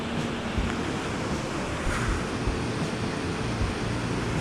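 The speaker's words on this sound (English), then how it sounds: "man-made waterfall or dam, whatever you want to call that." Water rushes over a small man-made waterfall or dam in Japan, a loud, steady broadband roar with some wind buffeting on the microphone and no talk.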